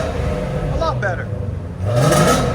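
The 5.2L Voodoo V8 in a six-speed manual Ford Mustang GT350 with an X-pipe exhaust hums in the background, then rises in a short rev, with a voice speaking over it.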